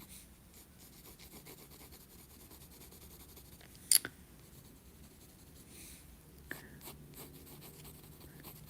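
A drawing tool rubs and scratches softly across paper while shading a fold in a drawing, a faint continuous scratching with a couple of brief sharper taps, close up and quiet.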